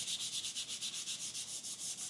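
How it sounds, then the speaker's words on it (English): Rhythmic back-and-forth scratching of 220-grit sandpaper lightly scuff-sanding a wood surface, quick even strokes repeating steadily, soft and close with no voices. "So I'm just going to give this a light scuff sanding with 220"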